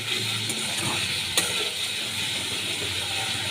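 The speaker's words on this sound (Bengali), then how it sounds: "আলুটা আমি কিছুক্ষণ কষিয়ে নেব।" Pre-fried potatoes with turmeric and salt sizzle steadily in a pan, a constant close hiss with one sharp clink of a stirring utensil partway through.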